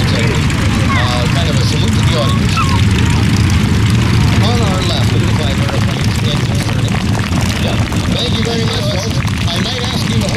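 A Great Lakes biplane flies at the Golden Age Air Museum Flying Circus air show, its propeller engine droning loud and steady throughout while an announcer talks over the sound.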